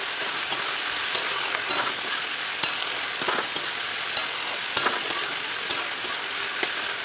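Chili chicken frying in a pan, heard as a bright, hissing sizzle punctuated by regular sharp scrapes and taps of a spatula, close and steady.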